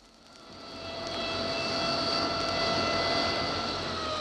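Bristol Britannia turboprop airliner touching down, a steady engine drone with tonal whine that swells over the first second and holds loud and sustained.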